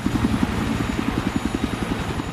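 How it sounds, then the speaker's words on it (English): A helicopter in the video game Battlefield 3 thumps with steady rapid rotor beats, loud and close, over a continuous engine roar. "There's that chopper."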